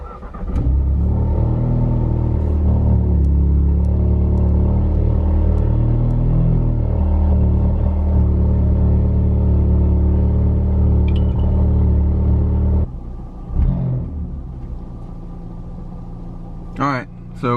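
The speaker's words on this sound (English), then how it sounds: "All right, guys, here goes a cold start." A Volkswagen MK7 Golf R engine cold-starts with a loud cranking catch and a brief rev flare, then settles into a steady, throaty idle that drops lower near the end, heard up close with no talking.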